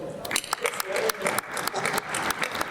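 Sparse, scattered clapping from a small energy-conference audience answering a show-of-hands vote: a few uneven, close claps over roughly three seconds, thin and brief.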